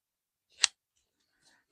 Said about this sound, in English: I have scissors, including